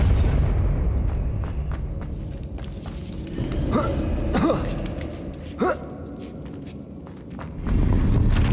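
A Depulso force spell is cast in the Hogwarts Legacy video game: a few short whooshing magical bursts sweep through the middle, set over a steady rumbling game ambience with low booms.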